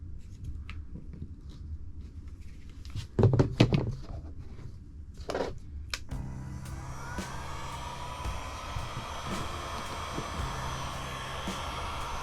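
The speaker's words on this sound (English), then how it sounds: "Now doing this with a heat gun is way better than using a flame of any kind" Heat gun blowing hot air onto plastic to reshape it: a few knocks and handling clatter, then a steady fan whoosh with an airy hiss that keeps going at moderate level.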